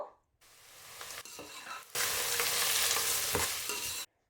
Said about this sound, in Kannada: ಇಷ್ಟನ್ನ ಹಾಕ್ಕೊಂಡು ನಾವು ಸ್ವಲ್ಪ ಹೊತ್ತು ಫ್ರೈ ಮಾಡಿಕೊಳ್ಬೇಕು